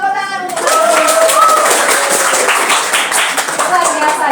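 A classroom of students claps their hands together in a short burst of mixed, overlapping claps close by, with voices calling out over the clapping and a brief spoken tone just before it starts.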